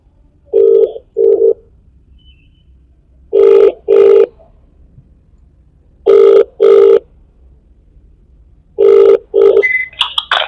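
A telephone rings back on an outgoing call, loud double-burst rings repeating four times at regular intervals with silence between, and a brief higher tone at the very end.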